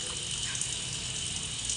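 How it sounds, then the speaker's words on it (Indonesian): Ikan sengkat being rinsed clean under a running tap gives a steady, close rush of water with faint clinks, and no one talks. "Ikannya dicuci sampai bersih."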